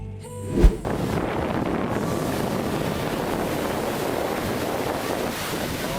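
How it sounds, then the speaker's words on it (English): Giant waves pound the shore in a continuous loud roar with heavy wind buffeting, after a single sharp thump at the start. "Next up are relentless giant waves relentlessly pounding the shore."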